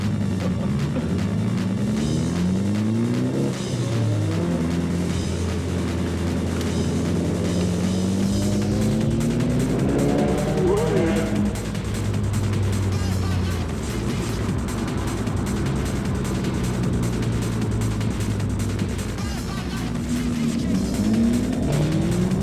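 A blue Nissan S15 at a street car cruise drives past loudly, its engine revving through rising and falling pitch sweeps over a constant low rumble of other cars.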